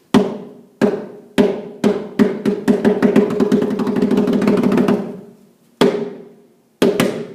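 Japanese kabuki tsuke wooden clappers strike sharply, a few spaced beats that speed into a rapid accelerating roll building to a mie pose, then stop, followed by two final isolated cracks.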